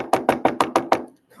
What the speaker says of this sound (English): That's the police knock.